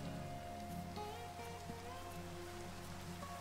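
Rain in the video game Minecraft, a soft continuous patter of raindrops on surfaces, faint and steady throughout under a low tonal game background, with no voices.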